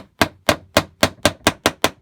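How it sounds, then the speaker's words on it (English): A piece is hammered into wood on a solid bench: eight sharp, evenly spaced hammer blows in quick succession, close and crisp, with nothing else heard between strikes. "you've got to have a nice surface to hammer on"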